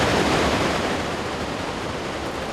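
Roaring Khone Phapheng waterfall on the Mekong River in Laos, a loud, steady broadband rush of heavy falling water that holds without a break throughout, with no voices.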